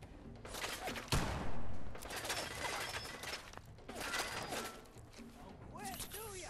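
Gunfire from a video game firefight against the Institute, with bursts of shots punching through an object, a loud sharp crack near the start, under a dense busy mix with talk.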